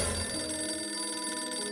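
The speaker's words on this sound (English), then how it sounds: "I'm getting a phone call." A phone rings inside a mobile video game, a bright electronic trill sustained throughout at moderate volume with no talking over it.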